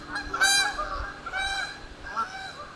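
Geese at Falls Park honk in a few loud, nasal calls close by, separated by short gaps, with nothing else over them.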